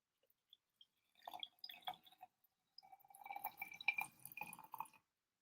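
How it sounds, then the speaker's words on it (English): Water poured onto herbs, a few faint drips and then a soft splashing, trickling pour in short bursts, quiet and close. "Now we're gonna add the water."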